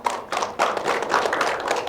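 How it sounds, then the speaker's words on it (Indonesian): An audience at a regional government dialogue forum claps in a brief burst of applause, close and fairly loud, with dense overlapping hand claps. "Boleh tepuk tangan"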